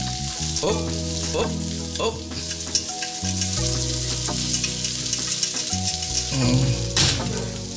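Salt and pepper squid frying in a wok, giving a steady, loud sizzle with scraping stirs throughout and no talking.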